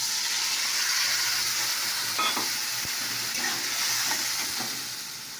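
Spice masala poured into hot oil and frying, a steady loud sizzle with a few soft stirring scrapes and clinks partway through, no voices.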